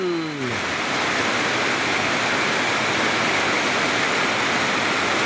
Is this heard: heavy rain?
yes